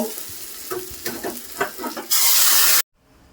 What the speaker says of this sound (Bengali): পাশের গ্যাসে গরম জল বসানো আছে, সেটা এখন দিয়ে দিব